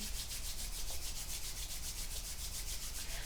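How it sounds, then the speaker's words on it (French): Two hands rub quickly against each other in a yoga practice, making a fast, even swishing friction sound, close and continuous from start to finish. "Rub your hands together"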